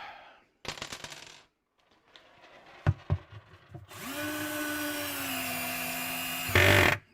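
A power drill drives 2-inch roofing screws for mounting casters, with a short burst, a few knocks, then a long steady whine close by that surges at the end.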